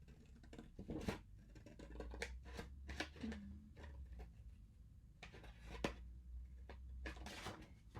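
Scissors cutting paper along a line for a tea-bag advent calendar: a faint series of irregular crisp snips and rustles, close and quiet, with a light hum underneath.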